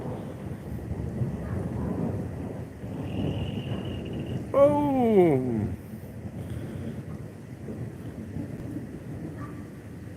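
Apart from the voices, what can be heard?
thunder during a storm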